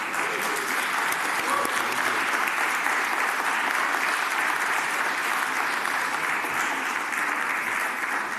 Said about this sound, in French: Et on peut aussi l'applaudir pour sa belle victoire d'hier.